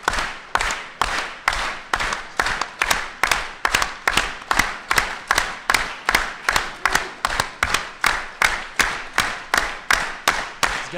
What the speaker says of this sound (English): I want you guys to give Armando a steady beat clap